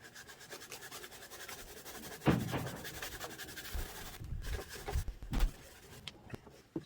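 Hard wax is rubbed and polished by hand on a stereo receiver faceplate, producing faint, repetitive scrubbing strokes with a few louder rubs and light knocks in a quiet room.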